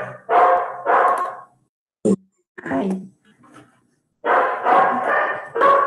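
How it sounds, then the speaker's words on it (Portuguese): A dog barks repeatedly indoors, loud close bursts of barking in two clusters separated by a brief pause, with a woman's short exclamation in between. "A cachorra tá latindo de novo."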